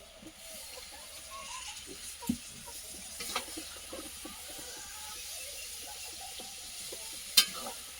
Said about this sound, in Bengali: জল ঢেলে দিয়েছি তরকারিতে